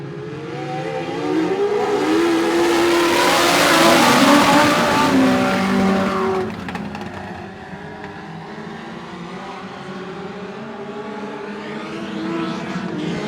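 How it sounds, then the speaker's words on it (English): Legends class race cars roaring through a heat race, a loud swell of engines building and passing over several seconds, then settling into a steadier distant drone, no talk. "this is the first heat race in the Legends class"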